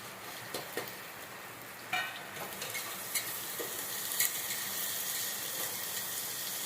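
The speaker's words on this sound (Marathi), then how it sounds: "चांगला बटाटा भाजून घेऊ" Potatoes and chili roast in a hot pan with a steady, close sizzle, broken by occasional scraping stirs and light clinks, and no voices.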